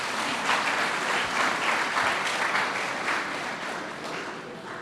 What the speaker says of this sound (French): Je voudrais qu'on applaudisse très fort.